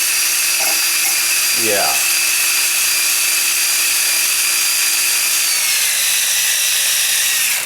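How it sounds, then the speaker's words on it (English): A small power tool fitted with a wire brush grinds rust off a vintage Pincor generator, a steady high whine holding for most of the clip, with a brief spoken word near the start. "I've got myself a little wire brush here"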